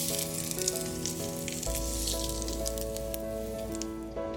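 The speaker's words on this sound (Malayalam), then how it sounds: "കടുക് താളിച്ചത് ഇതിൻ്റെ മുകളിലേക്ക് ഒഴിച്ചു കൊടുക്കാം." Hot oil tempered with mustard seeds, curry leaves, dried red chilies and shallots, poured over curd idli, crackles and sizzles steadily up close beneath gentle background music.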